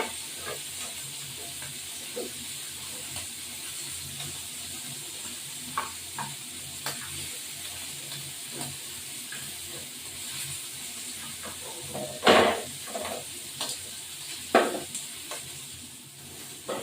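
Shrimp frying in a pan give off a low, steady sizzle with scattered stirring scrapes and a few louder clatters toward the end, all fairly close and without any talk.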